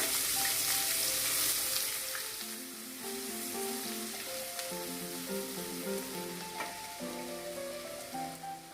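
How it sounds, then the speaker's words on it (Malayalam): Finely chopped medium onion dropped into hot oil in a pan for rava upma, a loud, continuous close sizzle and crackle that settles slightly but keeps going throughout, with faint stirring and a tonal hum underneath. "ഇതിലേക്ക് ഒരു ഇടത്തരം സവാള ചെറുതായി കട്ട് ചെയ്ത് ഇട്ട് കൊടുക്കാം."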